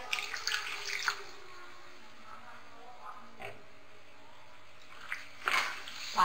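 Water splashes into a pan of cooking mutton liver and potatoes in a few short bursts separated by quieter stretches, fairly faint and close.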